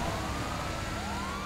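A police car siren in GTA V wails through a dense, noisy mix of engine rumble, its rising tone carrying steadily over the din.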